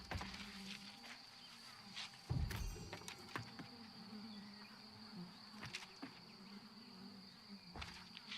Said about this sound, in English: You can hear the bees buzzing around.